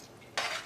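A spoon scrapes and swirls through Kerala sambar in a pot, a brief close stirring rasp that starts suddenly after a quiet moment.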